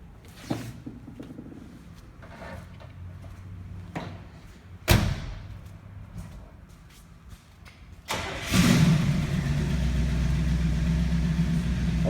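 A 1965 Buick Riviera Gran Sport is cranked over in a garage, with a few clunks before the V8 catches at once and settles into a steady, loud, close idle that rumbles on alone.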